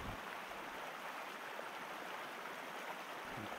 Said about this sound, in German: Dann ist das ein Bach.